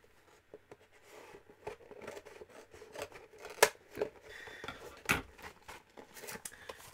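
Scissors snipping open a Yu-Gi-Oh booster pack, a few crisp, faint cuts and plastic rustles spread irregularly over a quiet background.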